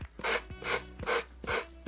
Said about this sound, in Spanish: Vamos pasando la lija y así vamos a retirar todo el contorno